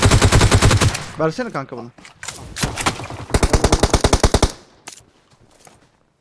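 Bursts of automatic gunfire in PUBG Mobile crackle in rapid strings, loudest in a dense volley near the middle, with excited voices talking over and between the shots.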